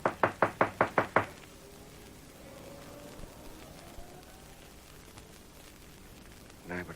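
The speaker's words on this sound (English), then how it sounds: "Nobody home. Knock again." Knocking on a front door on a veranda in a radio drama, seven evenly spaced loud raps followed by quiet room tone and a faint stir at the end.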